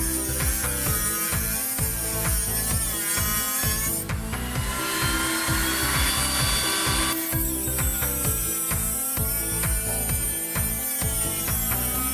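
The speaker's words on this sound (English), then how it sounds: "Having problems with my little Dremel." A small Dremel rotary tool, apparently having trouble, whirs and grinds continuously up close with repeated rhythmic bursts and a brighter, higher whine in the middle stretch.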